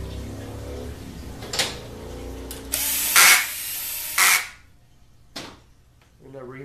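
A power drill drives two bolts during a 4L60-E transmission rebuild, with a few short bursts of whirring separated by quiet pauses, fairly close and loud.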